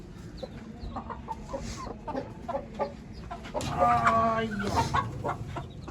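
Rooster and hen cluck in short, irregular bursts, with a louder rush of clucking and squawks near the end over a steady low background; faint voices murmur underneath.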